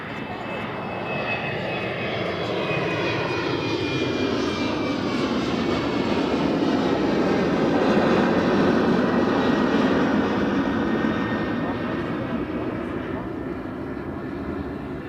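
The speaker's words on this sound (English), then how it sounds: "that is the first of 2 BA departures that are in process" A British Airways jet departing Edinburgh Airport gives off a broad engine roar that swells gradually and holds steady, heard from a distance at moderate loudness, with voices talking over it.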